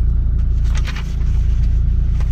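A 2017 Toyota Innova Venturer diesel automatic idles steadily nearby with a low, even rumble and no talking.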